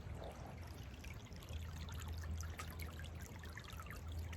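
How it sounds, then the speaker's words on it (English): A clear, shallow creek with nothing but rocks on its bottom flows and trickles in the woods, giving a soft, steady burble and faint splashing with a low rushing undertone, continuous and fairly quiet with no voices. "a creek with nothing but rocks in the bottom"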